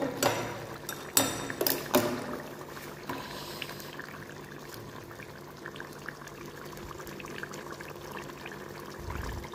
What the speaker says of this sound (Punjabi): ਥੋੜ੍ਹਾ ਜਿਹਾ ਪਾਣੀ ਪਾ ਦੇਣਾ